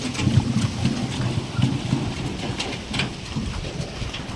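Floodwater rushes in a broad, steady roar across a village track where a bullock cart crossed after heavy rain, a dense continuous wash with no voices.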